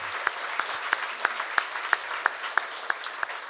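Applause from a forum audience at a Korea University labor-management-government forum, a sustained wash of clapping with sharper individual claps standing out in a steady rhythm.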